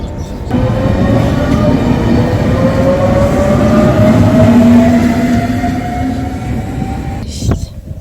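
A train rolls steadily along the tracks in Italy, a loud continuous rumble with a rising tonal whine, ending in a brief clunk.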